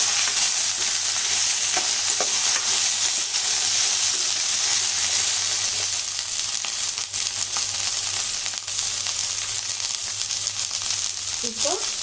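Chopped carrot, brinjal and okra sauté in oil in a pan, producing a loud, continuous sizzle broken by scraping and stirring sounds, with a brief clatter near the end.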